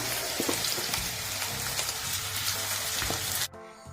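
Cauliflower pieces frying in hot oil give a loud, steady sizzle with soft crackles and bubbling, close up, which cuts off sharply near the end and leaves only a faint residual hiss.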